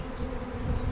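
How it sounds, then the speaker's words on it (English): A honeybee swarm fills the air with dense, continuous buzzing at close range, a steady drone of many insects with no talk over it. "Us walking into a tornado of bees."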